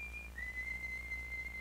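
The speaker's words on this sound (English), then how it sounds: "That's Dick's whistle." A single thin, steady whistle signal sounds in an audio drama of Treasure Island, holding one pitch with a slight step down, faint and alone.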